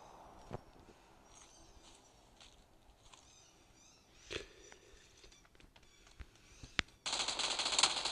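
Bursts of gunfire in the PUBG New State mobile battle royale, scattered sharp shots over a quiet game background, then a loud steady burst near the end.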